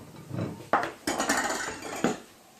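Kitchen dishes clatter and clink as a bowl is pulled out from among them while preparing Thanksgiving dressing, with several close knocks and scrapes of ceramic and cutlery.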